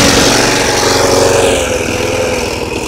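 A Toro lawn mower engine runs on choke as it warms up, a close, steady mechanical drone that eases slightly in loudness toward the end, with no voices.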